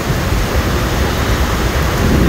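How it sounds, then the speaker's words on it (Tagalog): Heavy rain pours onto a flooded street, a dense, loud, continuous roar of falling water and rushing runoff, broadband and unbroken throughout, with no voices. "sana humupa na ang ulan."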